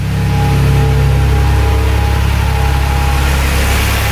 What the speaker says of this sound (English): I guess I'm gonna just let it run, idle for a little bit, burn off the fuel